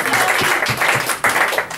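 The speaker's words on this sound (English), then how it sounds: "Give her a round of applause." An improv comedy audience gives a round of applause, a loud, dense wash of clapping that swells and dips over nearly two seconds.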